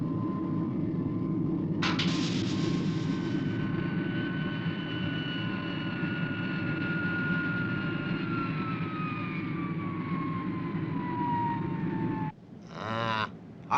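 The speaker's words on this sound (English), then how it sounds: "What's this? A plane?" A plane drones steadily overhead, a loud sustained engine hum whose pitch slowly sinks as it passes, ending with a brief burst of other noise.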